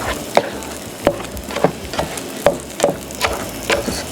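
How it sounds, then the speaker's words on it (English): Spatula scraping and folding scrambled eggs in a pan, a close series of rhythmic scrapes and soft taps against the pan about every half second, over a faint sizzle. "I make sure I scrape the pan so it doesn't stick"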